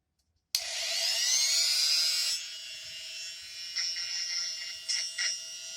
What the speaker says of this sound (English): You need a Dremel kit